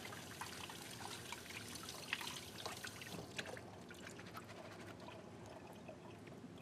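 Cold tap water runs and splashes as food is rinsed in a kitchen, a soft trickle with small drips and clinks that quiets toward the end.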